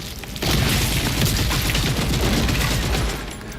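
Dense, sustained gunfire from the Gears of War E-Day tech demo, a loud continuous barrage of rapid booming shots that kicks in after a brief lead-in and rolls on without pause.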